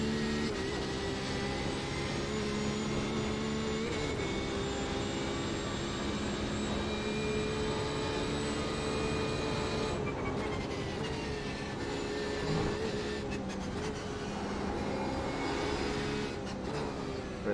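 Porsche 911 RSR racing engine in the iRacing simulator at the Nürburgring, a loud continuous high-revving whine that rises and drops with gear changes and braking, alone without talk.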